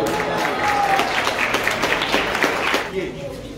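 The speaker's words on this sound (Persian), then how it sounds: "امیرعلی فرج‌نژاد و سروش حسینی تشویقشون کنید." Audience at a Rubik's cube competition in Iran breaks into steady applause, dense clapping from a crowd that carries on for about three seconds before tapering off, with voices mixed in.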